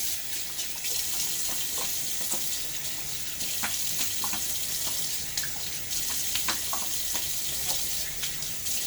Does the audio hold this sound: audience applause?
no